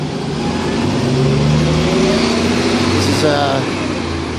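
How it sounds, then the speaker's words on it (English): Steady roar of busy city street traffic on 17th Avenue around noon, with passing cars and engines blending into a continuous loud wash of noise. "so there's a lot of traffic noise."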